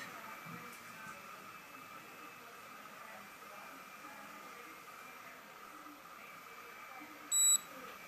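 Quiet room hum, then a single short electronic beep from a Nu Skin ageLOC Galvanic Spa facial device near the end, clear and close.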